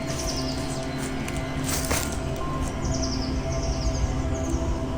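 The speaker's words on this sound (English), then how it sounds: "I can see so many birds around here" Wild birds calling in a forest near Istanbul, with scattered short chirps and thin trills heard from a distance above a constant low background rumble.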